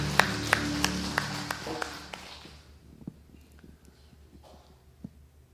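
A congregation at a Sunday worship service in a Korean Holiness church claps in a steady rhythm over sustained tones, then fades to soft, scattered claps and room noise.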